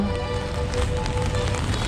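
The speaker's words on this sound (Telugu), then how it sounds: "చూడండి ఎలా వర్షం పడుతుందో" Heavy cyclone rain pours over Chennai near Marina Beach, a loud dense roar with constant hiss and drumming that runs without a break.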